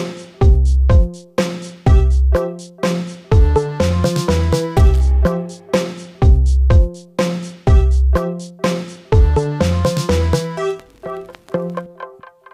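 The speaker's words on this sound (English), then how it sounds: "So if it play the synth and the accordion together." A synth and an accordion play together in 3/4 time, with repeating bright chordal phrases over deep, punchy low hits in a steady waltz-like cycle, ringing out at the end.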